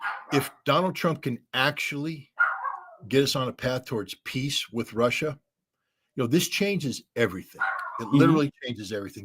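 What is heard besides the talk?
dogs barking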